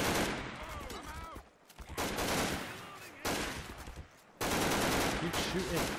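Gunfire from SWAT NPCs in a Garry's Mod horror battle, dense rapid bursts in several loud stretches broken by brief lulls, with game effects mixed in.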